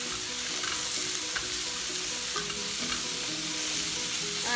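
Vegetables stir-frying in a pan for a beef stir fry, a steady close sizzle with repeated scraping and tossing of a utensil against the pan, no talking.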